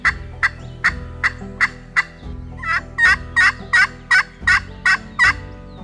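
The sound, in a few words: turkey call imitating gobbles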